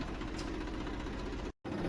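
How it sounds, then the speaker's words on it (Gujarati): Massey Ferguson tractor engine idling nearby, a steady low mechanical rumble with a brief dropout near the end, no speech. "તો આપણે શરૂ કરીશું આપણા ટ્રેક્ટરથી।"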